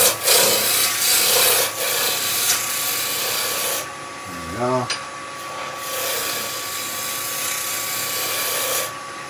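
A roughing gouge shaves a spinning wood blank on a lathe, a steady close scraping hiss over the machine's constant hum, with one brief squeak partway through.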